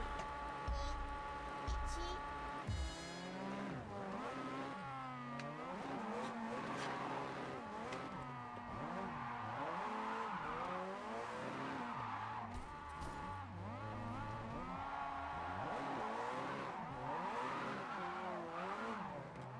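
A Mazda RX-7 drifting in a racing video game, its engine note rising and falling through repeated revs with skidding tire squeal, while someone talks over it nearly throughout.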